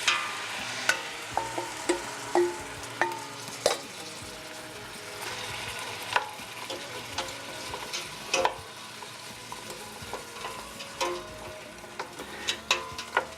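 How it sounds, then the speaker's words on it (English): Mushrooms sizzle in a pan with browned onions and garlic, a steady close frying hiss broken by repeated clacks and scrapes of a spoon stirring, with no talking. "And now let's add the mushrooms."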